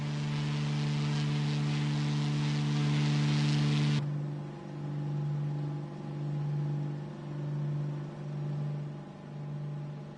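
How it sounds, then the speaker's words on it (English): An aircraft engine runs at full throttle with instruments redlining in Microsoft Flight Simulator 2024, a loud steady droning hum that drops abruptly partway through and then continues as a lower, pulsing engine tone. "My instruments are redlining because I'm going full throttle."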